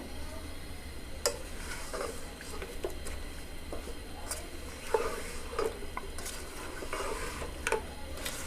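Chicken for Bombay biryani is roasted and stirred in a pan over a medium flame, with a continuous soft sizzle broken by scattered sharp taps and scrapes from the spoon.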